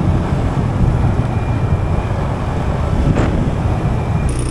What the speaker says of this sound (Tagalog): Basta hangin.